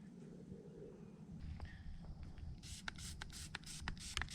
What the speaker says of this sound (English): Just spraying myself down.